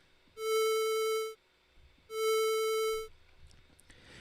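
Two sustained synthesizer tones built in JavaScript, each with a 10 Hz vibrato and bright harmonic overtones, sound loud and clean, separated by a short gap, with faint background noise after.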